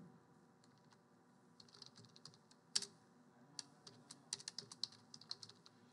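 A question being typed on a computer keyboard: soft, close key clicks, sparse at first and then quicker in an uneven rhythm, with no voices.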